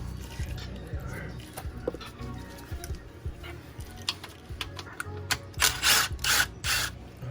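A wrench ratcheting on the oil pan bolts of a BMW E39 540i, heard as bursts of close clicking and metallic clanks with brief pauses, with some talking nearby.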